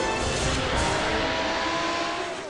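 A BMW AC Schnitzer 3.10 GP running on gas roars under full throttle, a loud, dense engine and tire rush sustained across the whole stretch before easing slightly at the end.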